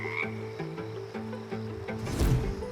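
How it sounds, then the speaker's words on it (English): A frog croaks in a steady run of deep, repeated calls, close and clear, ending with a louder rasping burst with no voices present. "You're right, it's a frog."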